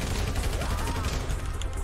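Dense, continuous gunfire from a GTA shootout rattles throughout, loud and close, with overlapping shots that blur into a steady barrage and faint voices in the mix.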